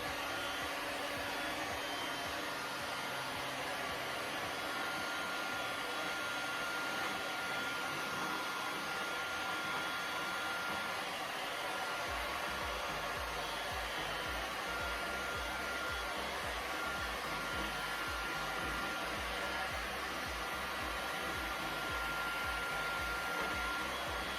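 A heat tool blows steadily and close by, warming a WoodUbend decorative moulding for a château-style Chalk Paint furniture makeover. The constant airy whir runs unbroken for the whole stretch, with a slight low rumble added partway through.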